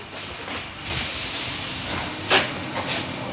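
A subway train sounds with a steady hiss and rushing noise, a surge of air about a second in, then a brief sharp burst like brakes or doors later on, with no voices.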